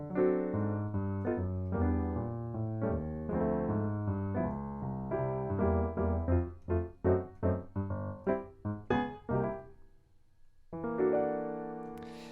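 Alicia's Keys virtual piano on its default patch plays a clear melodic passage of repeated chords and single notes, steady at first, then a run of sharper detached notes before a brief pause and a final sustained chord; no talking.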